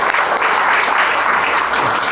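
A congregation applauds at a church revival service with dense, steady clapping that fills the whole moment, loud and close, with no speech over it.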